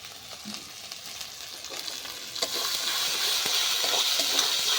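Tomato paste frying in a spiced rohu fish masala curry, a close crackling sizzle with scraping stirs that grows louder and fuller partway through.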